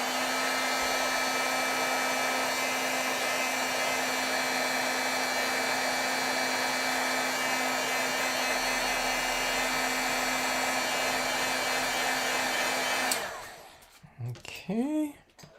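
A heat tool blows steadily and loudly to dry white pigment ink on a stamped card, a constant whirring hum that cuts off near the end, followed by brief faint sounds.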